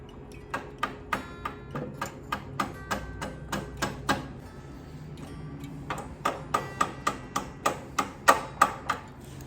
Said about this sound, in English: And I'm gonna have to get a mallet just to tap it in.